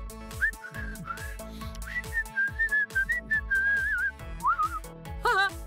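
A person whistles a lively, wavering tune in several phrases, clear and close, over a background of bouncy circus-style music.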